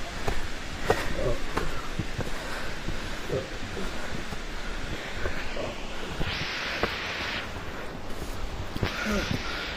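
Birthi waterfall near Munsyari in Uttarakhand produces a broad, steady rushing roar of falling water heard from nearby, mixed with some wind buffeting and faint movement.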